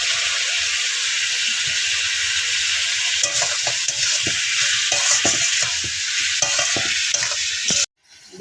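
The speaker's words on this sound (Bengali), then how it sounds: "মাংসটি মোটামুটি ভাজা ভাজা মতো একটু হয়েছে" Salted meat fries in a pan with a steady, loud sizzle while a spatula stirs and scrapes it in repeated strokes. The sound cuts off abruptly near the end.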